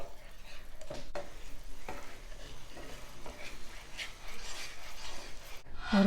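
Sauce for orange chicken with sugar and soy sauce is stirred in a pan, a steady scraping and swishing of the utensil with a faint sizzle underneath, continuous and close throughout.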